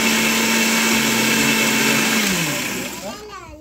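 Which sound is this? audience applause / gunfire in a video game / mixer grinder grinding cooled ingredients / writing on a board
mixer grinder grinding cooled ingredients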